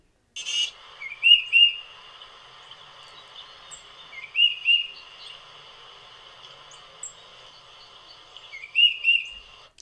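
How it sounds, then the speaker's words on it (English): Recorded call of a tufted titmouse: clear, high whistled two-note phrases repeated three times at spaced intervals over a faint hiss, alone with no talking. "I discovered that that bird was the tufted titmouse."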